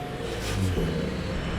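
Car engine revving up briefly, a short close rumble that swells in the middle and holds steady, with no voices.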